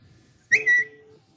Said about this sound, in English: Who just whistled?